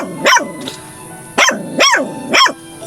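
A dog barks four times close by, sharp, loud yaps in an uneven rhythm with short pauses between them.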